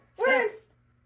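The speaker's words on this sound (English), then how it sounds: "Oh, that was a cat." A cat gives a single short, clear meow, close and alone against quiet background.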